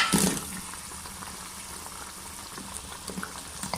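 Spiced water coming to a boil in a pan for chana dal kofta gravy, a steady close bubbling and simmering hiss with a brief louder splash at the start, no talking.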